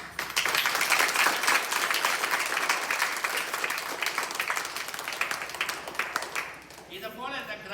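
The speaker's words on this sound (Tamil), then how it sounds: "முதல்ல அவங்களுக்கு நல்ல ஒரு கைத்தட்டு கொடுங்க." Audience at a Tamil school in a village in Myanmar clapping for students, a loud, sustained burst of applause that fades near the end as a voice starts talking.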